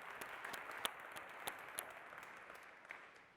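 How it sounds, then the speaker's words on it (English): Applause from a conference audience for hackathon participants, fairly faint and distant, a steady wash of clapping with a few sharper individual claps standing out. "So big round of applause for all of our hackathon participants."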